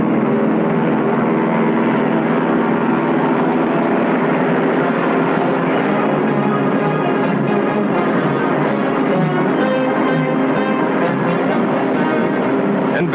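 Lockheed military planes, Hudson bombers and a P-38, fly past in 1940 with a steady, loud droning engine roar that holds evenly throughout, under orchestral music.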